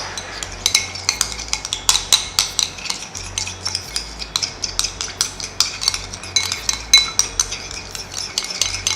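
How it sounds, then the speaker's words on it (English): Aloe vera gel being stirred into a homemade hair remedy, with a utensil clinking and scraping against the bowl in rapid, repeated close strokes throughout. "Mix it all together."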